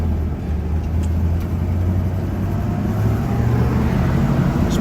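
Steady low engine drone from a 1964 Corvette rolling along with the clutch engaged, a constant close rumble with road and wind noise and no pauses.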